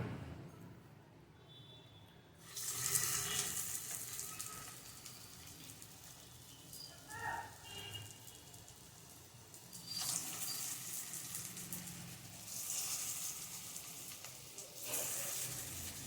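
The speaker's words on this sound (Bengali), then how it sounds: "এবার আমি এটাকে ভাজতে নেব" Elephant foot yam coated in rice flour fries in a pan of hot oil, giving a steady soft sizzle that swells in bursts as pieces are added or moved, close and continuous without speech.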